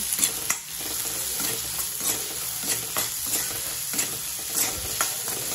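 Chicken chilli with salt is stirred briskly in a frying pan over high heat: a steady loud sizzle with repeated scraping strokes at a fairly regular pace, close by and with no voice.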